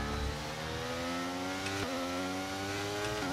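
Formula 1 car engine in the F1 23 racing game, a high, steady whining rev climbing through pitch with two sharp gear shifts, loud and close with no talk.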